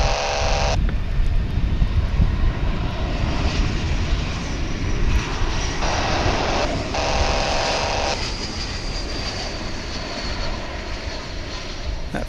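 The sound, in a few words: jet airliner arriving from Oklahoma City at DFW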